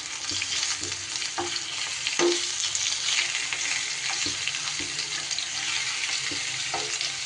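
Chicken pieces fry in a hot pan with a steady broadband sizzle, turned now and then with scattered scraping stirs and soft knocks, moderately close and with no talking.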